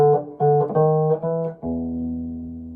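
Clean blues guitar plays a Chicago-style walk-up to the turnaround, a handful of rising plucked notes on the 5th and 4th strings ending on a ringing, sustained low chord, close and alone.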